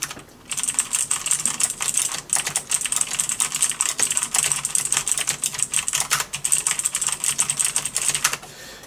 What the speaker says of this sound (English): let's type a bunch of gibberish.